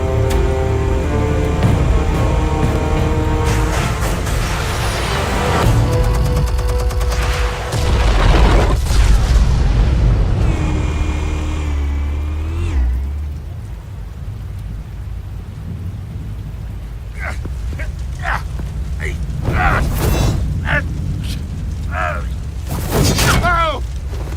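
Heavy explosions go off after armed explosives are fired in a video game, with loud deep rumbling booms and crackling bursts that fill the scene, with a voice briefly heard.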